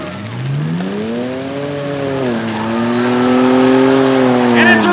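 Race cars in a night gauntlet race at Rockford Speedway, including a white Chevy, engines droning and rising steadily in pitch close by, with a brief higher squeal near the end and a voice speaking over them.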